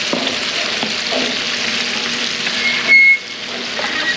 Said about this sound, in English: we're just adding it directly to the skillet with the guanciale